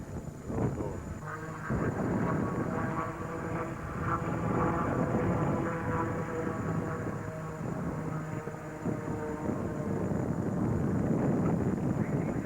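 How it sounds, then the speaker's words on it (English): Steady wind rushes and buffets across the microphone outdoors on open water aboard a fishing boat, a constant broadband roar with faint engine-like hum underneath. "It's going to be tough with this wind trying to keep the boat position."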